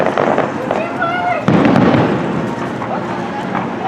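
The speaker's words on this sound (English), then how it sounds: "we start seeing the first of the fireworks right over the trees" Fireworks at Disneyland seen over the trees from a nearby inn: a dense crackle and a sharp burst at about one and a half seconds, then a sustained rumbling din with people talking throughout.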